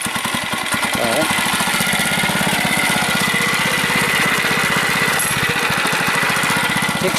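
A Monster Moto mini bike engine starts and runs loud and close, with a rapid, steady small-engine chug that settles into a fast, even putter.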